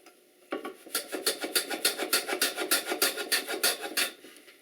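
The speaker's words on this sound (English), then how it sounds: "Cut a chamfer on this end." A hand tool cuts a chamfer on the end of a pine board for a candle box, making a steady run of close, rhythmic rasping strokes with no talking.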